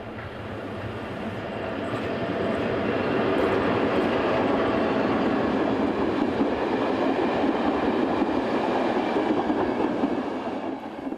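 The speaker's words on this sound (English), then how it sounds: "In the opposite direction comes 242-230 with a train from Rhein to Karlovy Vary." A Class 242 electric locomotive, number 242-230, hauls a passenger train past in a steady broadband roar with faint wheel clatter, swelling in the first seconds and holding loud throughout.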